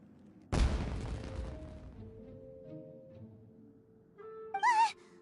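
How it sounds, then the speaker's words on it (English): Fireworks burst in the Genshin Impact video game: a sharp loud bang rolls into a decaying rumble with lingering tones, followed a few seconds later by a brief bright whistling flourish. "It sounded like fireworks."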